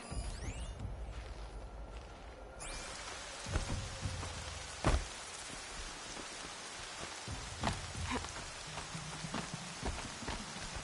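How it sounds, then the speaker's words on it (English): Steady rain hisses without pause in the video game Horizon Zero Dawn, broken by a few dull low thumps and occasional sharper drips. No voices. "Rain's not so bad."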